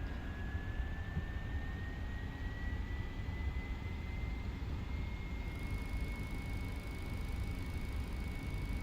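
A Boeing 737-500 engine in a flight simulator spools up with a steady, loud roar and a slowly rising whine that continues throughout.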